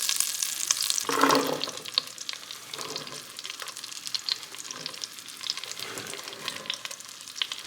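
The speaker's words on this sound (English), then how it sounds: "I'm just gonna let these saute for a bit" Mixed vegetables sautéing in a pan of melted butter give off a steady, moderately loud sizzle and crackle, with a brief stirring burst early on and no voices.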